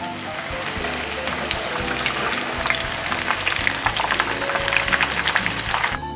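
Tofu pieces frying in hot oil for an oseng tahu kecap dish, a dense steady crackling sizzle at close range, unbroken and fairly loud, with no one talking.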